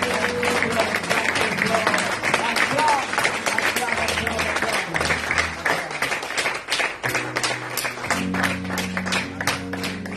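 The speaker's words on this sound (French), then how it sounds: "Acclame très fort." Church congregation at a Sunday worship service cheering and applauding loudly, dense sustained clapping with scattered shouts and voices mixed in throughout.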